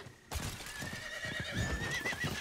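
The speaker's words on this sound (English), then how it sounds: "I can just jump on a horse right now." A horse in the video game Diablo IV gives one clear whinny that wavers up and down, with hooves clopping underneath, close and fairly quiet.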